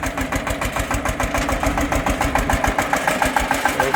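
Agri Globe 180 mini tractor diesel engine running steadily up close, a loud rhythmic chugging with regular firing pulses throughout and no voices.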